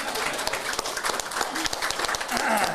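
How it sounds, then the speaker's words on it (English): Mourners clap together at a memorial service, a dense, steady round of applause from a small gathering, heard close and continuous throughout. "We should clap it out."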